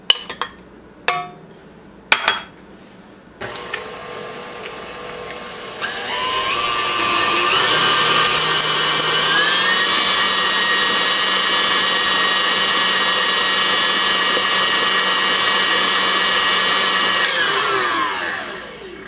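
An electric mixer creams eggs, sugar and butter. A few clinks and knocks come first, then the motor starts and whirs steadily at high speed for about ten seconds before winding down.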